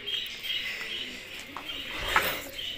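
Pigeons coo softly and repeatedly at close range, with a few brief chirps among the low, rolling calls.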